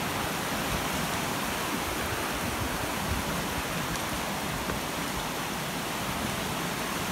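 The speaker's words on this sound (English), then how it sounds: "Water pouring off that bank up there." Floodwater pours off a creek bank on a farm as the creek rises, a steady, full rushing roar that holds without a break and with no voices.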